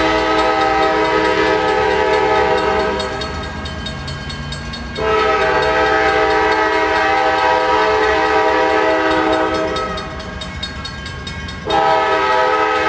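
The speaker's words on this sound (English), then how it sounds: "cross the tracks before the train gets here" A Norfolk Southern eastbound mixed freight train passes close by in Austell, Georgia, sounding long, loud blasts of its multi-tone horn over the steady rumble of rolling cars.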